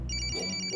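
A phone ringtone chimes for an incoming call, a bright repeating electronic melody sounding clearly over a low hum, alone with no talking.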